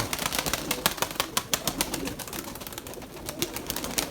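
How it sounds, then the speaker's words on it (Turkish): Pigeons coo and beat their wings during a flight session, with rapid, repeated wing flaps close by and no talking. "Bakın şu kuş."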